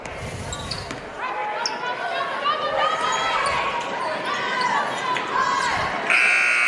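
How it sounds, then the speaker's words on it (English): Final buzzer sounds at the end of a girls' high school basketball game between Indiana and McKeesport, a loud sustained electronic blare that cuts in at the very end over crowd noise and an announcer's play-by-play. "And Carnevale with the shot at the buzzer is no good."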